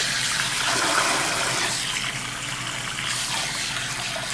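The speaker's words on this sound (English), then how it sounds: "When we do rinse, part of it is to leave a little residue in the hair." Lukewarm water runs steadily over hair during a light rinse at a salon, a continuous close splashing wash with no talking.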